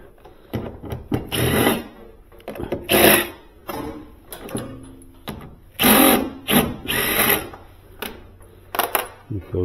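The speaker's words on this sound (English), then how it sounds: "Let me drill that out." Short bursts of a power drill drilling out holes in a Traulsen freezer, whirring on and off close by, with clicks and handling noises between runs.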